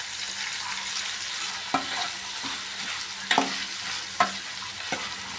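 Masala with tomatoes sizzles steadily in hot oil for egg biryani, while a spoon is stirred through it with a few distinct scraping knocks against the pan at irregular intervals.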